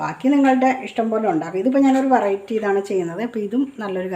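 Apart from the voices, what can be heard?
No everyday noise stands out behind the speech.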